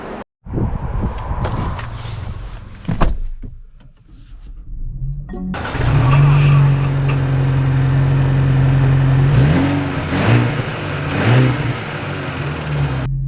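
A 2024 Lincoln Corsair luxury crossover starts up and drives: after a few brief clunks and a quiet pause, a loud steady engine hum rises, then revs climb and fall as the car accelerates, close and continuous.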